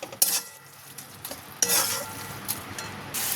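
A spoon stirs cabbage ghonto in a pan, with a few sharp scraping strokes over a low, steady sizzle and no talking.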